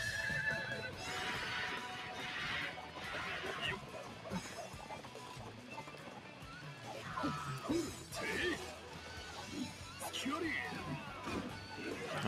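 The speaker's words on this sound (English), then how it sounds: "The horse." Horse whinnies ring out repeatedly amid clattering, crashing action noises and busy game sound effects in a warriors fighting video game, with a voice speaking over parts.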